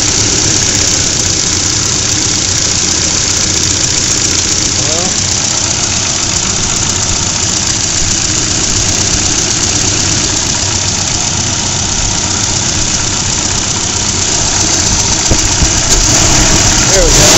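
A Volvo 740 four-cylinder engine idling, a loud, steady, close rumble with a slightly knocking rhythm that runs unbroken throughout, with someone talking faintly over it.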